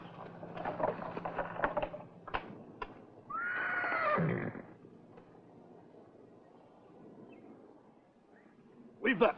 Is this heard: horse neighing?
yes